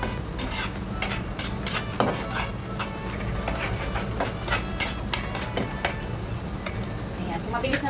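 Frikeh stirred in a cooking pan for a Lebanese frikeh and chicken dish, rapid irregular scraping and clacking of a utensil against metal over steady sizzling, with a voice speaking underneath.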